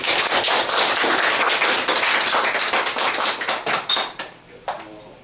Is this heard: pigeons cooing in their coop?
no